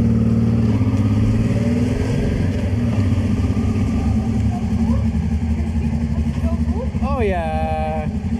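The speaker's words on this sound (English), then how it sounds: "God, do I love motorcycles" A motorcycle engine drones loudly and steadily while riding in Lithuania toward Kaunas, with a rising whine of shifting gears toward the end, and a rider talks briefly over it.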